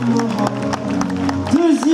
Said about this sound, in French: un tonnerre d'applaudissements pour Alix Dehénin